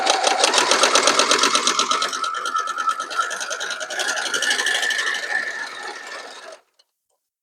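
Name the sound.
sewing machine chain piecing quilt block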